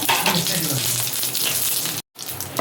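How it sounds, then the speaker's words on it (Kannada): Mustard seeds and curry leaves sizzling in hot oil for a Dakshina Kannada dry fish curry, a loud close crackling hiss with small pops that cuts out briefly near the end, then resumes. "ಸಾಸಿವೆ ಹಾಕಿಬಿಟ್ಟು ಕರಿಪತ್ತ ಹಾಕ್ಕೊಂಡಿದ್ದೇವೆ"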